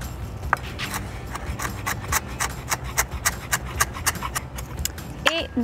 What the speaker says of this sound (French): J'ai un mélange de basilic, aneth, ciboulette que je vais hacher grossièrement.